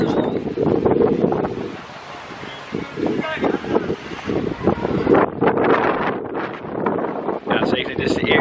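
Strong wind buffets the microphone during the Easter Island Marathon, a loud broadband roar that rises and falls in gusts throughout, with a voice speaking over it.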